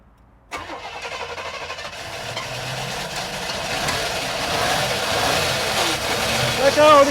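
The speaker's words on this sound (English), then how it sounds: "I'll get ready to crank it." A barn-find Chevelle abandoned for 24 years cranks over after a brief silence, the starter grinding steadily and building in loudness as the engine tries to catch, with voices talking nearby.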